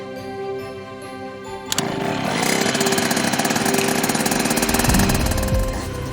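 A motorcycle engine starts after a quiet stretch, then idles with a loud, steady, rapid chugging throb close by for several seconds, with no speech over it.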